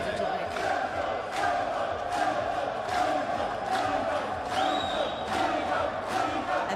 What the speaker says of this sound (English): And the crowd cheering in the background.